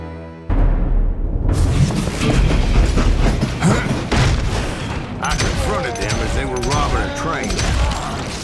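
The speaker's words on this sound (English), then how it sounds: "Bullets were flying at me from every which way." In the Wild West shooter Call of Juarez: Gunslinger, a loud, dense barrage of gunfire rattles almost without a break. Heavy booms and rumbling mix in, and the din keeps up throughout.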